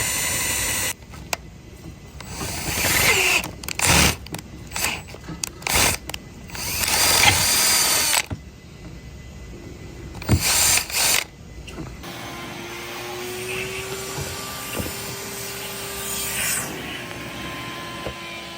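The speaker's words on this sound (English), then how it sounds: "it's so that the drill bit doesn't go further than it needs to go" A power drill working on a billet exhaust manifold for a B58 engine, running in loud whirring and grinding bursts with mechanical clicks, then settling into a steadier tonal whine toward the end.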